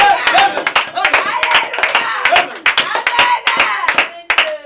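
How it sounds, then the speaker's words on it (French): A church congregation claps loudly in quick rhythmic bursts, close and energetic, with voices calling out in the middle of the applause. "Acclame bien fort, acclame bien fort."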